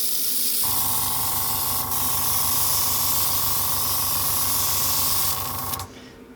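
Budget airbrush spraying paint at 25 psi for weathering a model railway: a steady close hiss of air over a rapid, buzzing compressor chatter with a constant tone, starting abruptly and cutting off near the end.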